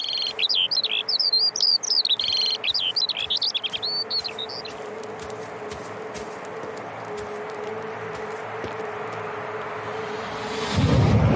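A bird in a game audio demo with a fixed listener position chirps in quick rapid trills at the start, then goes quiet over a steady hum and soft ticking, ending in a louder rushing burst.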